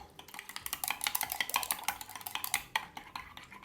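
Eggs with seasonings are beaten in a bowl: rapid, rhythmic clicking taps of a utensil against the bowl, close and fairly quiet, repeating steadily with no talking.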